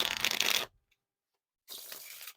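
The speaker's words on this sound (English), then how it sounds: "So nice and smooth for the riffle shuffles." Two bursts of riffle shuffling a deck of Dusty Blue playing cards by Cactus Cards, a quick crisp flutter of cards interlocking, separated by a short silence.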